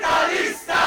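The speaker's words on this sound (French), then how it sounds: "Dans la foule, des slogans aux accents anticapitalistes." Protesters in Davos chant anticapitalist slogans during the World Economic Forum, a loud, dense mass of voices heard close up in one short burst of under a second.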